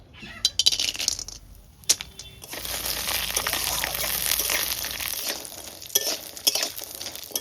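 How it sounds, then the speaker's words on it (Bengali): Bori, little lentil dumplings, frying in hot oil in a home kitchen, a bright sizzle that swells and holds, broken by clinks and scrapes of a utensil against the pan. "তেলটা গরম হোক, ওর মধ্যে কটা বড়ি ভেজে দেবো।"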